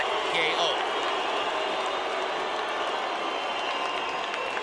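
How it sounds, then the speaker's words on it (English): Large boxing arena crowd of Filipino fans booing after a Pacquiao vs. Barrera bout, a sustained loud roar of voices filling the hall, with no single speaker standing out. "Filipino fans booing Barrera."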